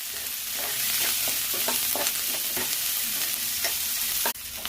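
Onions with ginger garlic paste fry in a pan on a low flame, giving a continuous close sizzle punctuated by rhythmic spoon-scraping strokes, with a sharp knock near the end.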